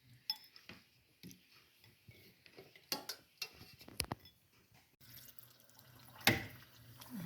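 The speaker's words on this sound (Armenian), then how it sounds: "Մսերը առանձնացնեմ ջրից, ջուրն էլ կքամեմ, կլցնեմ էլի մեջը։" Water drained off meat and poured back into a pot, heard as scattered drips and splashes, then a steadier pour with a sharp spill at one point, close and moderately loud.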